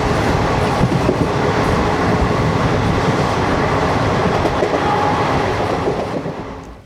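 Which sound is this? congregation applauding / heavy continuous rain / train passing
train passing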